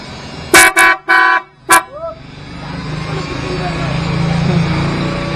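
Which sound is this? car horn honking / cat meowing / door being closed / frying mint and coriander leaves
car horn honking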